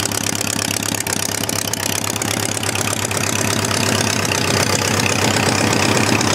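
Homemade four-cylinder Briggs & Stratton generator engine running steadily nearby, a loud, continuous low-pitched drone with fast rhythmic firing pulses throughout, no talking.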